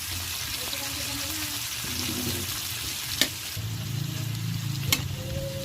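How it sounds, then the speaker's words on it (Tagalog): Tomatoes frying in a pan sizzle steadily while being stirred, with occasional sharp clacks of the spoon against the pan and a faint tonal hum beneath. "Ayan, halu-haluin lamang natin hanggang lumambot ang kamatis"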